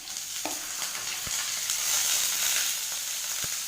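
Whole cumin seeds, onions and tomatoes fry in hot oil for palak paneer, giving a steady, loud sizzle with a few soft clicks and knocks, close by with no talking.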